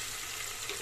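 Cumin seeds tempering in hot oil for a cauliflower dish: a brief, steady, close hiss of frying with no pauses.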